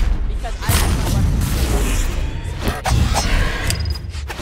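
Heavy booming blasts and crashing debris fill a noisy game scene, with a couple of sharp hits and a swoosh layered over a rumbling background.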